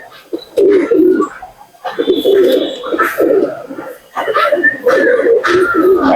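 Domestic house pigeons, a male and female pair, coo in repeated throaty phrases close by, with short gaps between each rolling call.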